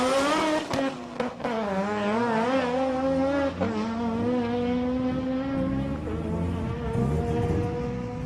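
Yellow Mazda RX-7 in an old-school JDM drag race, its engine revving hard and climbing through gear changes, loud and close with a smooth buzzing tone that rises and steps down with each shift.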